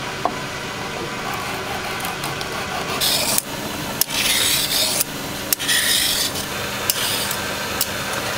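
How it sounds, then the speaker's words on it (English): Carrots being peeled, a steady run of close, dry rasping scrapes with sharp clicks and brief pauses between strokes. "peeling carrots is very therapeutic"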